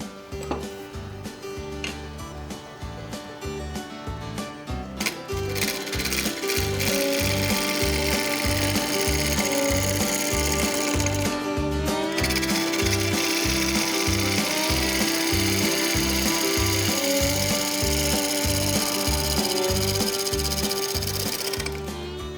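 A wood lathe turning a hard, dry black locust blank for a wooden flask, with a steady rhythmic mechanical rumble and a continuous cutting hiss that grows louder and fuller partway through, close and without speech.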